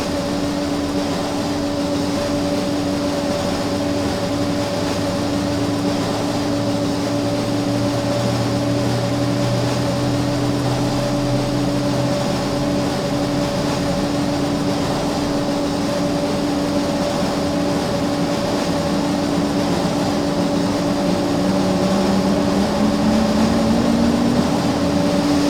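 Left turboprop engine of a Flysimware MU-2B-60 starting in a flight simulator game, a steady loud whine with sustained tonal hum and a slowly rising pitch, continuous and alone without talk.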